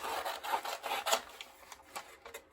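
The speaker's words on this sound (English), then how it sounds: "I am going to rough cut it out. Make sure to use your paper scissors." Quick rhythmic snipping and rasping strokes, close and fairly quiet, repeating in short bursts as paper scissors rough-cut through paper.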